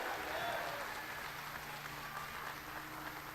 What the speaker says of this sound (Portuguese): Tem alguém aqui que pode dar um aplauso bem forte nessa tarde